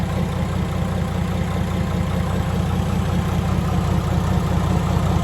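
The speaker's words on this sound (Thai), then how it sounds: "เอารถดัมนี่แหละครับ ขับให้มันชาร์จแบตครับ" A dump truck engine runs steadily at idle to charge the battery, with a continuous deep low rumble and vibration that hold without change from start to finish and no voices.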